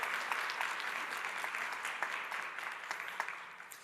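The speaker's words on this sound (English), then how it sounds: "let's give all of the panelists a round of applause for their fantastic discussion" Applause for the panelists at the close of a debate on low fertility and falling birthrates, a steady crowd clapping throughout with no talk.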